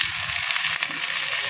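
Kashmiri chili powder sizzling in hot oil, a loud, continuous close-up frying hiss that stays steady throughout, with no talking.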